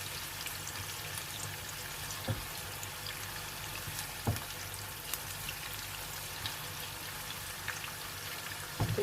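Onions frying in a pot for pulao, browning lightly; a steady, even sizzle crackles throughout, with a few louder pops and clinks scattered over it and no voice.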